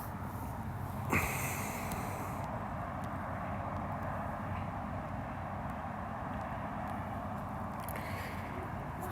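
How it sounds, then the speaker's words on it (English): A fixed-wing airplane passing overhead outdoors, a faint steady engine drone that stays low and constant throughout, with a brief sharp click near the start and no talk. "this plane just passed by right now"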